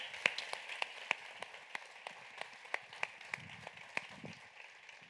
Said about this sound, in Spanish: Por favor, Asunción, un aplauso muy grande.